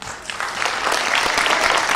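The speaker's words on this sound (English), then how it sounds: "Please welcome her with a big round of applause." An audience at a Korean culture performance at Mt. San Antonio College greets an elementary school principal with applause that swells from a few claps into a full, steady round.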